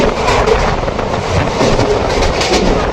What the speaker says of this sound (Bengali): মেট্রো লাইন পাশে যাচ্ছে।